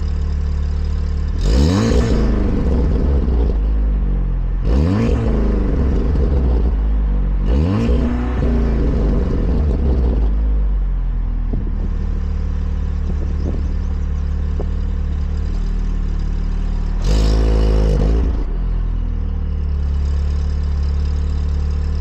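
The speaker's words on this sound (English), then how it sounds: "We're going to start by revving the engine and see how it sounds after installing all the mods" A tuned stage 2 VW Golf R mk7 engine gives four sharp revs that rise and fall, three in quick succession and one after a long pause, over a loud, steady idle close by.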